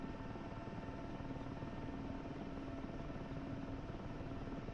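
Helicopter in a flight video game, steady whirring rotor and engine drone, constant and fairly faint throughout with no talk.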